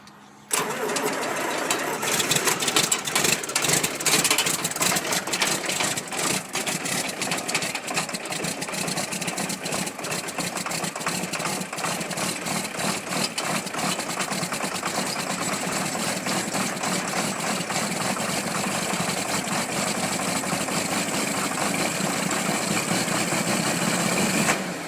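A John Deere 4430 tractor diesel engine idles steadily after a cold start, a loud, continuous rumble with a rapid knocking beat that holds through the whole stretch without talk.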